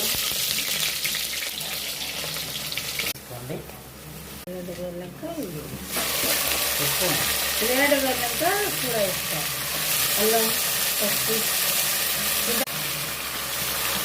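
Onions sizzling in hot oil for a homemade chicken curry, a steady frying hiss that drops away briefly and then returns louder, while a voice talks over the sizzling.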